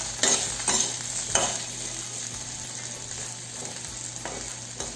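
Lightly salted food fries in a pan while a utensil stirs it, giving a soft steady sizzle broken by a few sharp scrapes and taps against the pan, fairly close and without speech.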